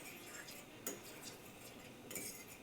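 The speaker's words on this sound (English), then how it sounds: "I'm gonna put all the herbs in and all the garlic. Give this a stir." A utensil stirs herbs and garlic through olive oil in a pan, giving quiet, steady sizzling with light metallic scrapes and clinks, close but faint.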